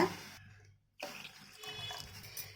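Water poured into a pan of sugar splashes and trickles close by, with a brief silent gap before the pouring resumes and continues.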